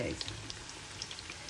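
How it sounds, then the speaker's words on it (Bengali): Shami kababs fry in hot oil, giving a faint, steady crackle and sizzle with small popping bubbles, heard close up but quietly. "এখন গোল্ডেন ব্রাউন করে ভেজে নিব সেভেন টু এইট মিনিট"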